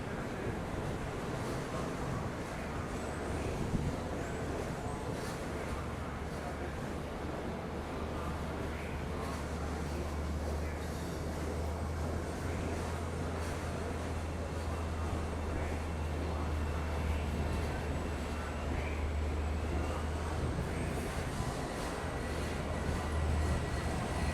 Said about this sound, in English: we see Montauk Branch train number 14 passing through Jamaica Station on its way to Montauk